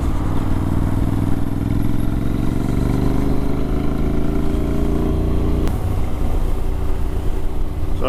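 A Honda CTX motorcycle cruising on the road at around 45 to 50 mph, its steady engine drone loud and close, with a continuous rumble and a brief pitch drop partway through.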